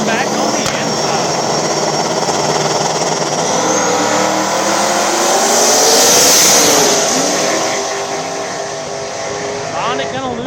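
Two small-tire drag race cars, Sonic and Silverback, launch side by side at the Dig Days VII event, their loud engines roaring and swelling into a sustained high-revving blast that fades as they pull away, with an announcer talking over them.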